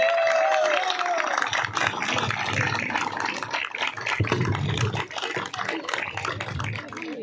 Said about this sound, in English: Keep on clapping, keep on clapping.